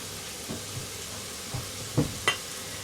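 Vegetables cooking in a pan for a tuna bake, heard as a few quiet stirring scrapes and soft clicks spaced over a low, faint background, with no voices.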